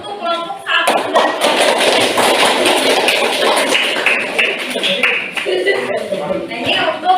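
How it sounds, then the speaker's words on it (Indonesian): A classroom group applauding a class group, with dense clapping that sets in about a second in and holds for several seconds, plus taps and thumps and a teacher's voice above it. "beri aplaus untuk kelompok 1"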